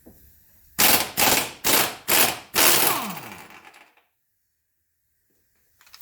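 Pneumatic impact wrench on the upper control arm bolt of a Mercedes W126, five loud rapid bursts in quick succession, then silence.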